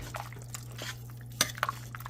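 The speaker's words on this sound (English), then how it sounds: "we're going to give that a little mix here" Souse meat with pig ears gets stirred in a pot, with soft wet clinks and drips of liquid under a steady low hum, plus one sharper metallic knock midway.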